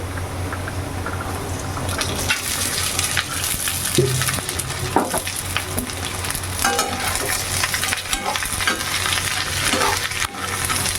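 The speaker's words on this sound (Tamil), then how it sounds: "நல்லா வந்து கிளறி விட்டு நல்லா எண்ணெயிலே கொஞ்சம் நேரம் வதங்கட்டும்" Ivy gourd strips stir-fry in oil with onion and chili, giving a continuous close sizzle with repeated spatula scraping and stirring in the pan, with no voices.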